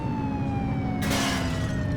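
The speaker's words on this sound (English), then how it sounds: "We have the siren on." A police car siren wails in the 1980s police video game The Precinct, a steady loud tone with a brief burst of noise midway, no talking.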